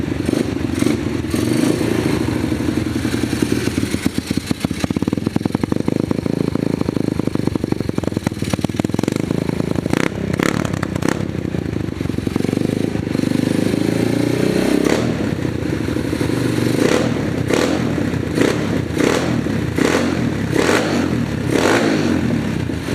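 An Apollo RFZ 125cc pit bike on a test ride after a carburetor air/fuel screw fix, its small engine buzzing loud and close throughout, rising and falling with revs amid some rattling clatter.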